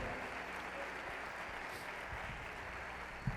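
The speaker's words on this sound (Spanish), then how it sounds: "el hermano Williams Trigueros, recibámoslo con un fuerte aplauso" Steady, dense applause from a church conference audience welcoming a guest speaker, filling the room evenly throughout with no talk over it.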